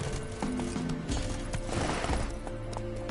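Galloping hooves of Roach, the horse in The Witcher, thudding steadily up close amid game music and ambient sound, with a brief voice over the hoofbeats.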